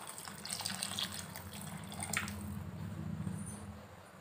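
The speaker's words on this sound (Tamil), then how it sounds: "நம்ம தேவையான அளவு தண்ணி கொஞ்சம் சேர்த்துக்கலாம்." Water poured into a pot of chana gravy in a home kitchen, a steady close splashing trickle lasting a few seconds with no talk.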